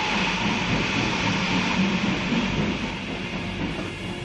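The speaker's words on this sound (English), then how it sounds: "The troop trains rumbled across Europe, bearing division after division from east to west. Every click of their wheels echoed the ticking away of precious time." Troop trains rumbling along rails across Europe in wartime, a loud steady rolling roar with wheel clatter, continuous and close with no voices.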